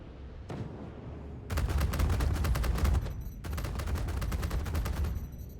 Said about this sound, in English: So you're getting hit by 4 size 2 cannons like that.